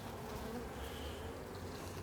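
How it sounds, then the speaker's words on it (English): A soft, continuous buzzing of many honey bees, faint and steady throughout with no talking. "So these bees are definitely active"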